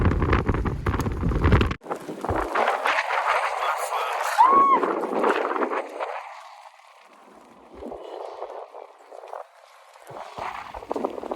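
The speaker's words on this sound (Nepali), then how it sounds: "एकदमै त्यहाँनिर चाहिँ यो हावाको वेग एकदमै ठुलो नै छ" Strong, cold wind blows hard at Muktinath, Nepal, roaring and buffeting the microphone in loud gusts that ease and return, with faint talk in between.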